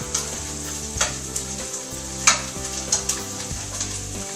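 Onions sautéing over high heat until translucent, a continuous sizzle punctuated by periodic stirring scrapes and light clinks against the pan, close and fairly loud with no voices.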